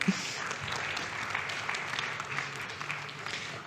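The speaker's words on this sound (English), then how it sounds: "Big round of applause" An audience at a space technology and security conference gives a round of applause, a fairly faint, even patter of many hands heard from a distance.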